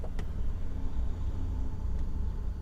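A car on a road passes near a parked trailer, a steady low engine rumble and tyre noise holding at a moderate level throughout, with no one talking.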